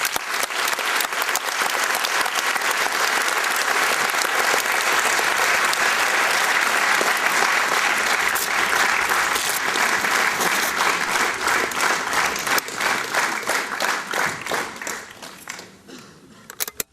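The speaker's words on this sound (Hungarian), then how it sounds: "Kérem, hogy fogadják Maharajot egy nagy tapsal." A large indoor audience gives a lecturer a sustained round of dense applause, loud and steady for about fifteen seconds before thinning out and fading near the end.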